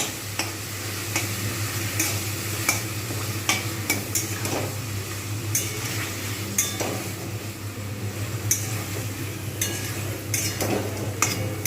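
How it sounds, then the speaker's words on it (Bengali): Chicken for biryani fries in a thick, heavy pan, a steady close sizzle broken by repeated scraping and clinking as it is stirred, with no voices over it. "চিকেনটাকে কিন্তু খুব ভালোভাবে ভাজবে প্রথম ভেজে নিয়ে তারপর"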